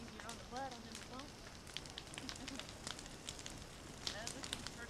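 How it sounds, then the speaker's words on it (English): Outdoor bonfire crackling with sharp pops and snaps scattered over a soft roaring hiss, fairly quiet, while people talk nearby. "Oh, some more bonfire."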